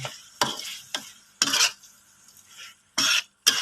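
A metal utensil scrapes and stirs beef curry ingredients dry in a hot pan, making repeated sharp scraping strokes in an irregular rhythm with short quiet gaps and a light sizzle between them, close and fairly loud.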